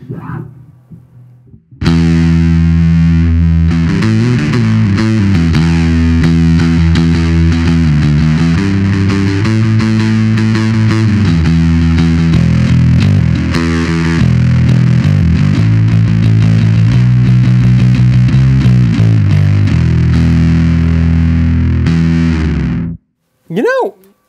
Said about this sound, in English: And this is it with the dry switch on, so the clean sound is going adjacent to your lovely Muffy bass sound.